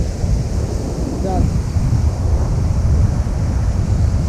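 Surf breaking on a Norfolk beach at Caister-on-Sea, a continuous loud wash of waves mixed with wind buffeting the microphone, no talk.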